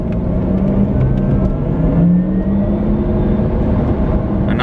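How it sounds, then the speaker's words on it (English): A 2020 Porsche Taycan Turbo electric car accelerating, its synthetic drive tone rising in pitch as steady whirring hum over road noise, close and continuous with no talking. "Another really crazy part about this car is the electric sound that it has."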